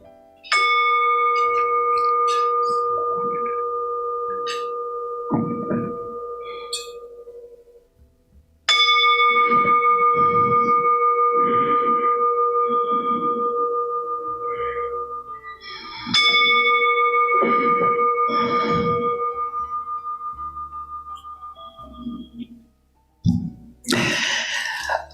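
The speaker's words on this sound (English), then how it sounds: "I would like to honor him by ringing the bell 3 times as we usually do." A bell rung three times in honor of someone at a meeting, each ring a long, bright, sustained tone that decays slowly before the next strike, loud and close with no talking.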